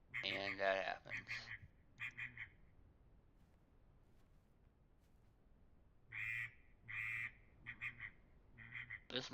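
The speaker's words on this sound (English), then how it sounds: "This mallard drake is a hail call, so it's supposed to be pretty loud." Mallard drake hail call blown in a duck hunting simulator game: a loud, drawn-out run of nasal quacks, then a few separate quacks, a quiet gap, and another string of loud, evenly spaced quacks.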